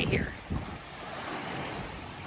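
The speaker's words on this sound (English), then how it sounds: "it's super windy" Steady gusty wind roars across an open beach at Palm Bay, Exuma, Bahamas, with surf underneath, a brief voice at the start, continuous and fairly loud throughout.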